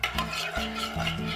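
A spoon stirs rice porridge baby food made from ground rice and water in a thin-bottomed pot, giving soft scraping strokes in a steady rhythm, close and quiet, with no talk.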